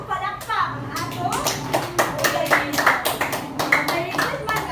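Schoolchildren in a classroom clapping their hands in a rhythmic pattern during a demonstration lesson, close and lively, with a teacher and kids' voices chanting over the claps.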